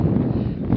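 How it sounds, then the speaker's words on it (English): Strong wind gusts buffet the microphone on a cold, exposed mountain walking route in Mallorca, a steady low roar over a brief moment with no voices. "And it's really windy."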